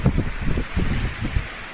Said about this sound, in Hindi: बहुत तेज़ हवा चल पड़ी है।